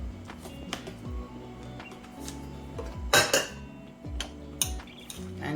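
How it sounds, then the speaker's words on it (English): Ackee being stirred in a pan, with a utensil clinking and scraping against the metal in irregular taps, plus a few sharper clatters partway through. "And then just mix the ackee in"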